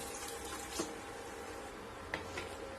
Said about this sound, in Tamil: இதை வந்து இந்த தண்ணியோட சேர்த்து இதுல சேர்த்திடலாம்